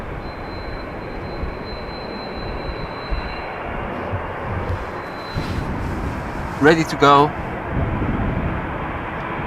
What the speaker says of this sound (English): KLM flight 691 to Toronto. Brand new airplane delivered in June last year.